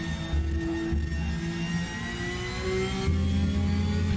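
Porsche race car engine in the RaceRoom Racing Experience game, a steady droning whine with rising pitch as it accelerates, continuous and fairly quiet, with no talking.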